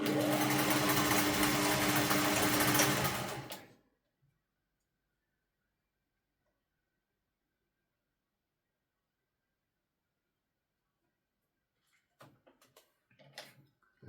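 A Singer 401 sewing machine with a tension problem runs steadily for about three and a half seconds, a loud, even mechanical whir. It then stops, leaving near silence until a few faint clicks and handling sounds near the end.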